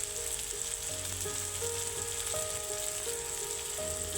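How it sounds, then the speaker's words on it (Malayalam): Chopped onion and crushed garlic sautéing in oil for a Kerala-style potato stir-fry, a steady soft sizzle with faint stirring, alone without talk. "ഉള്ളി ചെറുതായി വഴന്നു വരുമ്പോൾ അതിലേക്ക് ചതച്ചു വെച്ചിരിക്കുന്ന വെളുത്തുള്ളി ഇട്ട് ഒന്നുകൂടി നന്നായി"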